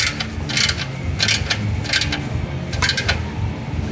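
Bolts tightened on the clutch of a 2000 Jeep Wrangler 4.0 with a ratchet, giving a quick steady series of metallic clicking strokes close up, with no talk.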